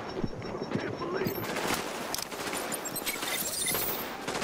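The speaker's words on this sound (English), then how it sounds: "I found a sniper, or someone very good at shooting." A sniper fires in the video game Tom Clancy's The Division at Grand Central Station, heard as scattered, fairly faint gunshot bursts and cracks mixed under people talking.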